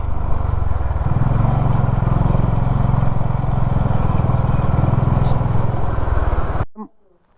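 A group of motorcycles riding together into a hotel in Ladakh, with a loud, steady, close engine drone that cuts off abruptly near the end, followed by brief talk.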